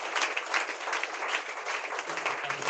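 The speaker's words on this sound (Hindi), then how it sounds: "जोरदार ताली बजाकर धन्यवाद" A congregation at a Friday prayer meeting breaks into loud, steady applause, many hands clapping together in a dense, continuous patter throughout.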